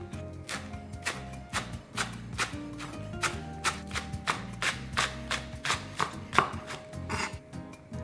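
A knife chops scallions on a cutting board in a rapid, even series of crisp, close knocks, continuing steadily throughout with no talking.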